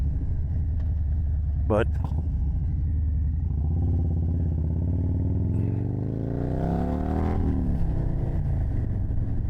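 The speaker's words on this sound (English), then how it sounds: "I'm gonna run her up through the rev limiter so I can find out where it is" A motorcycle engine at a garage is revved up toward its rev limiter, the pitch climbing steadily over a low idle rumble while someone talks nearby.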